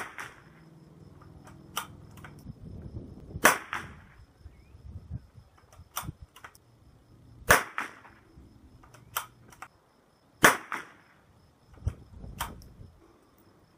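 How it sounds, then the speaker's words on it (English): CZ455 rifle firing CCI pistol match ammunition outdoors: sharp, isolated cracks spaced a few seconds apart, about eight shots over quiet background with faint clicks of handling between them. "Next up in the CZ455 is CCI pistol match."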